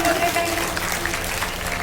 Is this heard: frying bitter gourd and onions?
no